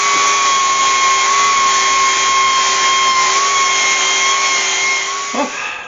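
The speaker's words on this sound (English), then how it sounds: "And just take that over onto the bandsaw and cut that top off." A bandsaw cuts the top off a turned oak scoop, giving a steady, loud mechanical whine with a sustained high tone that runs unbroken nearly throughout, briefly dipping near the end.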